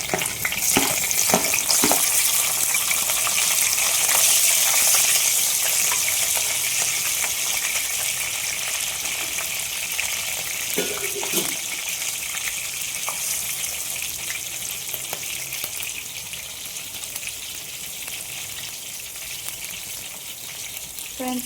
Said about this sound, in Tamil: சோம்பு நல்லா பொரிஞ்சதும் நம்ம வந்து அதில் மிளகா போட்டுக்கலாம்.